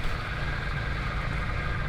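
Tractor engine in a video game, labouring under heavy load while pulling mowers uphill: a steady, dense drone and rumble that holds constant and loud throughout, with no voices.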